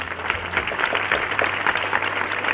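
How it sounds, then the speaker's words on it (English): An audience at a queen coronation program gives steady, dense applause that stays loud and even throughout, with a faint low hum underneath. "Let's give a warm round of applause for Erica Olson."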